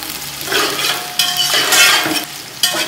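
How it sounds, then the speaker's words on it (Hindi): Onions sizzle loudly in hot oil for an achari pulao, with strong bursts of frying and the scrape and clatter of a spoon stirring against the pot. "ये हम प्याज डाल रहे हैं। प्याज को अच्छी तरह ब्राउन करेंगे हम।"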